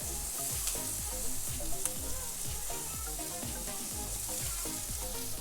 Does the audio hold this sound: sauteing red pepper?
yes